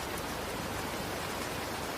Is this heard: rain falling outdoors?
yes